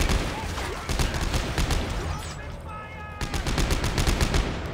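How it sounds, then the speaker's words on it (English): Rapid bursts of gunfire from the sci-fi horror game Dead Space 3, dense and repeated across the clip with a brief lull in the middle, fairly loud against background game sounds. "Oh gosh, I'm getting shot by this guy."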